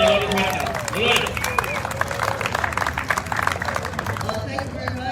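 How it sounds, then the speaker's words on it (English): A crowd at an outdoor press conference on Kern County term limits applauds and cheers loudly and steadily, with shouts and voices mixed in throughout the burst. "Everybody, please, a round of applause for the amazing and great Dolores Huerta"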